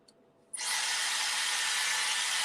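A Dyson hair dryer bursts on after a brief quiet moment and keeps blowing in a steady, loud, close rush of air while hair is styled for fullness and body.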